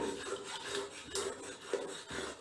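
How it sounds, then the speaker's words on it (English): A scrubber rubs rust off an iron rod soaking in a tub of water, giving quiet, close rasping strokes in a rough repeating rhythm with short pauses between passes. "Use this scrubber to remove it."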